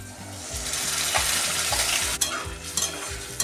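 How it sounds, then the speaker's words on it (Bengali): Spinach tipped into a pan of fried onions and stirred, with a steady frying sizzle under repeated rhythmic scraping strokes of a spatula and a few sharper clatters near the end. "পেঁয়াজটা আমার ভাজা হয়ে এসছে, আমি পালং শাকটা দিয়ে দেব।"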